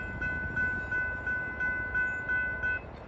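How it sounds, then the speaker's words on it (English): A train runs on railroad tracks near a bridge, heard as a steady low rumble with a repeating electronic tone pulsing regularly over it at moderate loudness. "Train's going to come over this bridge right here."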